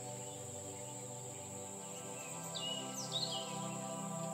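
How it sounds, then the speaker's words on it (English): Forest ambience with a steady high insect drone, continuous and even, while a few birds chirp and call more brightly near the end, with no talking. "lots of different birds."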